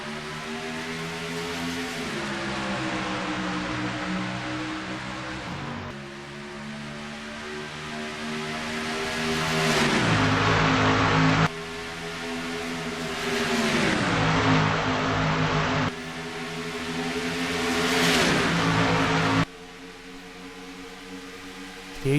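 Several stock cars at Auto Club roar away from a green-flag race start, engines revving up in repeated rising sweeps with gear-change drops, loud and continuous with no talk.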